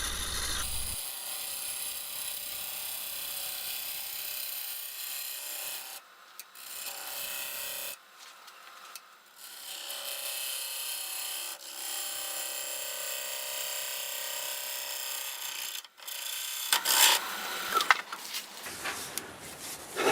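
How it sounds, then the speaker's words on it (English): Half-inch bowl gouge cutting a cherry wood bowl spinning on a lathe at about 1100 RPM, a steady scraping rasp with several short pauses and a sharper, brighter cut near the end; close and continuous. "I resharpened my 1/2 inch bowl gouge, and I'm doing about 1100 RPM here."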